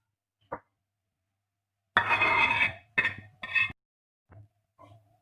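Cooked maghaz brain curry being spooned from a pot into a serving dish: a few short metallic clinks and scrapes of spoon against cookware, separated by silence.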